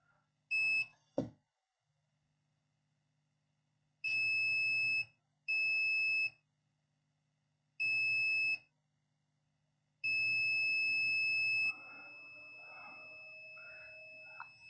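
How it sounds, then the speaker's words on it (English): A circuit board under test gives repeated high electronic beeps, a quick double chirp then four longer tones spaced a second or two apart, clear and close, with faint background noise between them. "So here it's beeping here."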